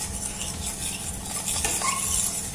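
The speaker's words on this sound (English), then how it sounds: "so give it a quick mix" Lasagne pasta dough is mixed in a bowl, with soft scraping and stirring and light clinks of a utensil against the bowl, close and steady.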